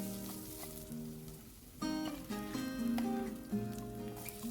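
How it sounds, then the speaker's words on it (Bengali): Garlic and onion with a little salt fry in olive oil, a gentle crackling sizzle running beneath prominent background music. "এবারে এই রসুন আর পেঁয়াজটাকে সামান্য একটু লবণ দিয়ে অলিভ অয়েলের সাথে ভেজে নিব।"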